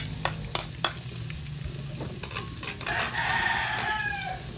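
Garlic sautés in hot oil with a crackling sizzle and a few sharp utensil taps early on, while a rooster crows faintly in the background toward the end.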